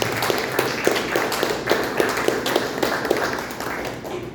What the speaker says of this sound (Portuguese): aplauda bem forte Jesus